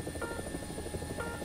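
A Tiger UHT helicopter in the War Thunder game, its rotor thudding in a steady fast pulse with a droning engine whine, loud and close, heard alone.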